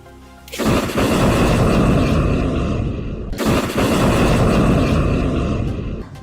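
Two loud, sustained roaring blasts in succession, each a sudden broadband rush that holds for a couple of seconds, like rockets firing nearby; Hezbollah Nasr 1 missile launches.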